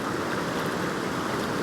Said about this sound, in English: I've got this running water straight in front of me between these two bricks.